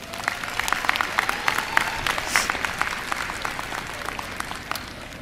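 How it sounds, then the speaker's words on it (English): A graduation ceremony audience at Howard University claps steadily for several seconds, a dense patter of many hands with a few sharper individual claps standing out. "Let's give them a round of applause."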